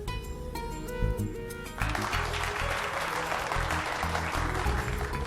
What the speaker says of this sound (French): Mais applaudissez-la.